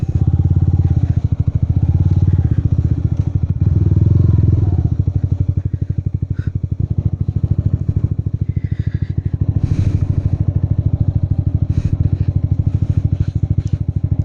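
Yamaha XSR 155 motorcycle ridden along a rough off-road track, its engine running with a loud, steady mid-pitched drone, rapid firing pulses and occasional clattering over the bumpy ground, heard close and continuously.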